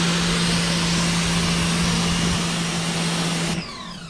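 A Sun Joe SPX3000 electric pressure washer with a green nozzle spraying against a blacktop sealer surface: loud steady motor whine and hissing spray close by, dropping off abruptly near the end.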